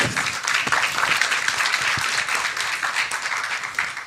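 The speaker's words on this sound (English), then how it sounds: "I think we can give our panelists a round of applause" An audience at an academic honours symposium applauds its panelists, a dense, steady round of clapping from many hands that holds for several seconds without talk.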